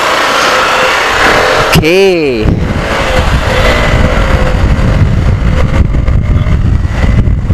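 KTM Duke 125 motorcycle engine running as a ride begins, with a brief rising-and-falling whine near the start and a steady engine drone throughout while someone speaks briefly.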